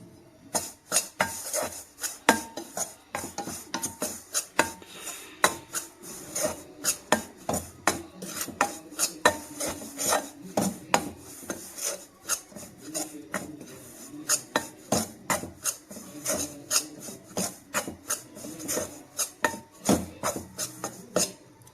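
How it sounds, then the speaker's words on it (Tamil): Rice flour is dry-roasted in a pan and stirred briskly with a spoon, giving a long run of rhythmic scraping and rasping strokes against the metal, close and fairly loud, without talking. "முதல்ல இந்த மாவை வந்து நம்ம என்ன வறுத்து எடுத்துக்கலாம்"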